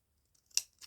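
Ordinary scissors snip through a piece of crinkly pink lace, two quick, crisp cuts close up in an otherwise quiet room.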